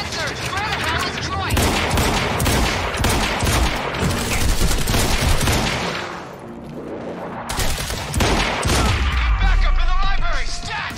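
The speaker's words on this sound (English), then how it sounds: "We're under fire!" Dense, sustained gunfire in the video game Quantum Break, rapid automatic bursts layered with blasts and booms, loud and close throughout, easing briefly before surging again.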